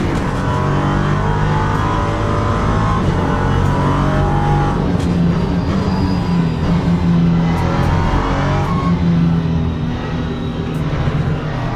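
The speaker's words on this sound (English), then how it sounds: "Downshift protection kicking on there, you probably heard it." A Ginetta LMP3 race car engine in Le Mans Ultimate drones loudly and steadily at Paul Ricard, its pitch stepping as it downshifts under a continuous roar.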